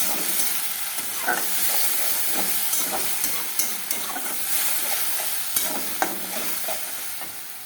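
Spices and garam masala paste sizzle and crackle steadily in hot oil with meat and eggs, a close, continuous frying hiss with occasional sharper pops and stirring scrapes.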